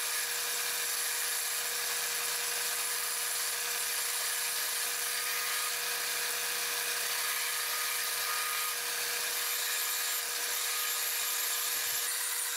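Continuous high-pitched whining buzz of a power tool cutting down a wooden hatchet handle, steady and close, with no talking.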